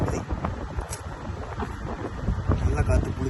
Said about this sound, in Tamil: காற்று இப்போ பாரு மரம்லாம் செம்ம ஆட்டம் ஆடுது